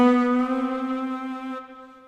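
Estey EZ2 organ on its saxophone voice, one steady reedy note with rich harmonics sustained for about two seconds, the upper overtones dropping away near the end as the glide switch bends it; no voices.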